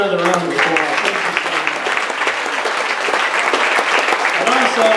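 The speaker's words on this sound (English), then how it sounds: "Now give Victoria another round of applause." A benefit concert audience gives loud, sustained applause for a singer, dense clapping throughout with voices and a bit of speech audible over it.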